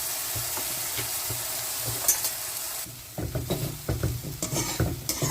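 Cooked pasta being stirred in a pan with salt and pepper, with a steady sizzle and frying hiss throughout and a run of uneven scraping, clattering stirring strokes in the second half.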